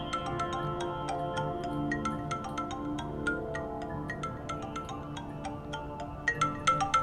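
An electronic phone ringtone plays a steady repeating melody of bright chiming notes for several seconds, with no voices.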